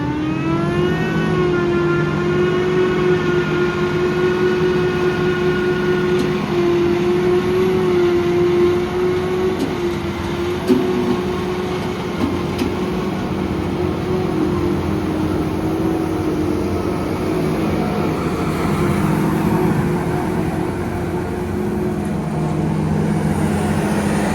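John Deere and Fastrac tractors drive together in a field, giving a steady, close engine drone with a constant tone through the whole stretch and no talk.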